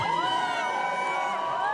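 Supporters fill a room at Mar-a-Lago, cheering and whooping together as a loud, continuous crowd roar with bright shouts layered on top throughout.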